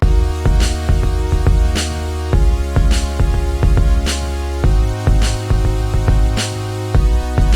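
A programmed drum beat recreating a song, with punchy kicks, snappy snares and bright hits, looping steadily over a synth chord and bass backing.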